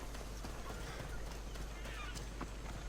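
A horse's hooves clip-clop steadily in Assassin's Creed Odyssey, with soft regular hoof strikes over a constant low game-world background hum.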